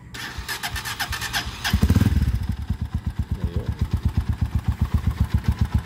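A Honda TMX155 motorcycle converted to 200cc starts and settles into a rhythmic, clattery idle with a noisy timing gear, near and alone.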